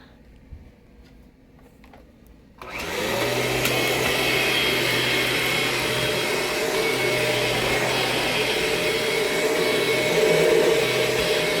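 A 2000 Limited Edition Kirby G6 upright vacuum, run for the first time after five months idle, switches on after a quiet start and keeps a loud, steady whining drone close by.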